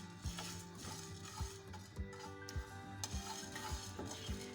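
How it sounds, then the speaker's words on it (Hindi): A spoon stirs and scrapes cumin, coriander and fennel seeds as they dry-roast in a pan, with soft rhythmic clinks of metal on metal repeating roughly every half second beneath a faint sizzle. "साथ साथ चमचा चलाते रहेंगे इसके अंदर।"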